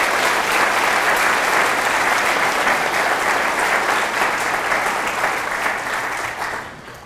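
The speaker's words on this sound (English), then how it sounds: "Let's give a round of applause to all the members of the Pennsylvania State Assembly." A large audience claps steadily for members of the Pennsylvania State Assembly, dense and loud for several seconds before thinning out toward the end.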